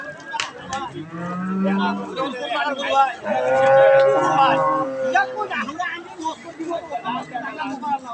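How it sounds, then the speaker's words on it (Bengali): A pair of bullocks at a bustling cattle market moo loudly in several long, drawn-out calls, close by, with buyers and sellers chatting and haggling throughout. "এই যে গরু জোড়া"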